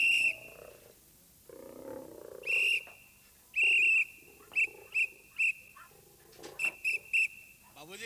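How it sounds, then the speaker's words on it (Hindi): Short, shrill whistles are used to signal back and forth between people, several sharp bursts of varying length. Low murmurs and other noises sit between them. "तो अपन सीटी मार के एक दूसरे से बात करेंगे।"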